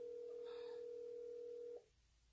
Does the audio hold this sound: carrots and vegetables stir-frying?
no